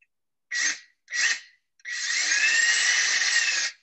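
A power drill boring a hole through wood for grafting, heard close up as two short whirring bursts followed by a steady run of about two seconds.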